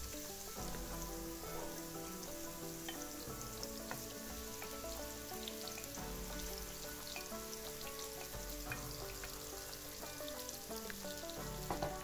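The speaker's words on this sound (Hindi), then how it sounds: "प्याज को मैं अच्छी तरह पकाऊंगी।" Onions frying in oil in a pan for stuffed bitter gourd (karela) give a soft, steady sizzle with dense crackling pops throughout, heard close but at low volume.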